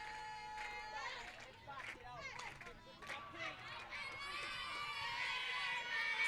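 Girls' high school softball dugout cheering on a batter at a 2-2 count, a busy crowd of young voices shouting and chanting continuously at moderate distance, with a play-by-play voice talking over it.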